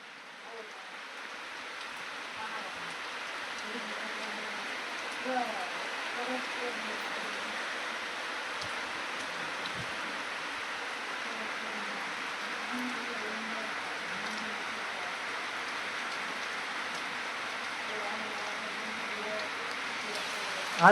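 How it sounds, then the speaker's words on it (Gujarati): Steady rain falls over a farm, a constant even hiss of drops on surfaces that builds slightly at the start and holds unbroken, with no one talking. "હાલો વરસાદ તો આવે છે ને આપણે બેઠા છીએ."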